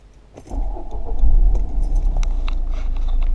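A Mercedes CLK 230K with a low battery and an OBD2 box plugged in is started: a brief key jingle, then the engine cranks, catches and settles into a steady near idle, with no talk.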